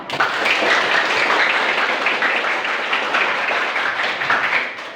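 Students in a classroom lesson clap together loudly and continuously, a bright dense round of applause close by that tapers slightly at the end, with no talk over it.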